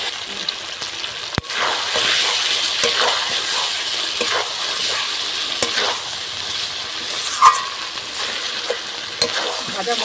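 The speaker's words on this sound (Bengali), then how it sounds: "যে মশলাটা ভেজে বেটে রেখেছিলাম এবার দিয়ে দেবো।" A fried, ground spice paste sizzles steadily in a pan, broken by repeated close scraping and stirring strokes and one sharp knock, with no talking.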